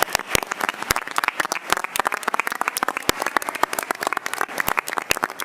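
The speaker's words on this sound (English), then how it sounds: "How about one last round of applause for all of our honorees this evening?" An audience at an evening Board of Education meeting gives a sustained round of applause for honorees, with dense, steady clapping throughout and no talking.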